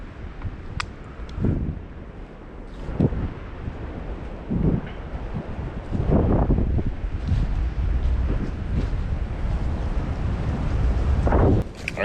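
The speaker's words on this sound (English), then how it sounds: "it's getting pretty crazy windy out here, as you can tell. These popples are blowing very hard." Strong gusty wind roars through poplar trees in a Minnesota woods during deer hunting season, with loud broadband rushing and buffeting against the microphone that swells and fades in repeated surges over a steady blustery bed.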